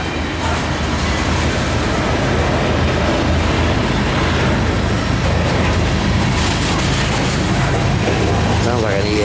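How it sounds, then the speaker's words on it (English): A CSX ES44AH diesel locomotive shoving as the rear pusher of a freight train rumbles past close by, loud and continuous, with rattling wheels, clattering cars and a brief squeal near the end. "Sounds like an ES44."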